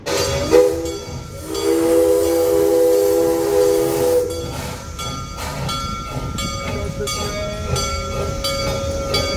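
A train passing at the Six Flags St. Louis amusement park, with a loud steam-style whistle blowing for a couple of seconds over steady rumbling wheels and hiss, the rolling noise continuing after the whistle stops.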